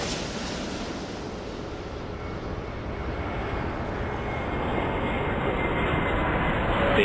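Jet aircraft noise from the airport game Airport Madness 4, a broad steady roar that slowly swells louder over several seconds as a plane taxis and takes off.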